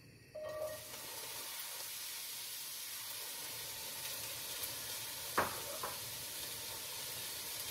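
Chopped onions sizzling in avocado oil in a pan, a steady soft hiss that starts abruptly and runs on, with a couple of brief clinks near the end.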